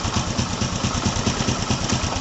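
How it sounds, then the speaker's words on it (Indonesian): A Honda Supra X 125 motorcycle with a stalling fault idles with a steady, close, rhythmic mechanical putter that runs evenly from start to finish. "langsung saja mesin akan saya matikan."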